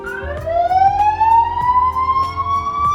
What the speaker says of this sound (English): Let's say the police siren.